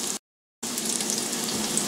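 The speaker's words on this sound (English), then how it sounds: "I'm going to fry them on this side for another 2 minutes" Chicken and leek patties fry in a pan with a steady, close, crackling sizzle. It drops out briefly near the start, then continues evenly with no talking.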